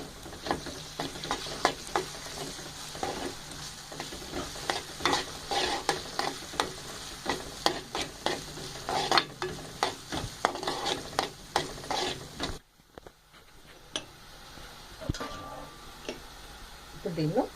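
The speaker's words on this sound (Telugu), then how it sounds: "వీటిని బాగా ఫ్రై అయ్యేంత వరకు ఫ్రై చేసుకోవాలి" Ingredients for egg ponganalu fry in a pan with a steady sizzle under brisk, rhythmic scraping stirs that pause and soften near the end.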